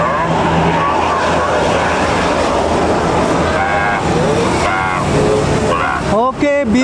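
A Primajasa bus running from Jakarta Cililitan to Tasikmalaya climbs a slope. Its loud, continuous engine roar mixes with nearby traffic, and voices are heard over it.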